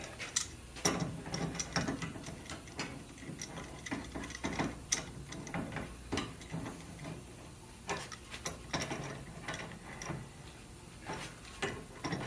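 Fittings on a Cascade 2 solar water heating system are tightened with a wrench, giving quiet, irregular ratcheting clicks and small metallic knocks up close, with no talking.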